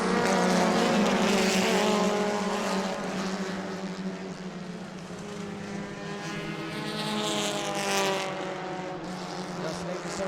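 Race cars roar around the short oval at New Smyrna during a family fun night event, several engines droning and shifting pitch as they pass, with an announcer talking over the steady loud racing noise.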